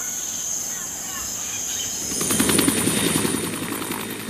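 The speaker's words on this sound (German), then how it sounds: "Ein zweiter Versuch, diesmal mit einem Hubschrauber der peruanischen Luftwaffe." A Bell 212 helicopter of the Peruvian Air Force thuds in the distance, its rotor chop growing louder midway through over a steady insect-like hiss.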